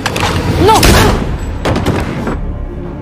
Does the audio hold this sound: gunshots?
yes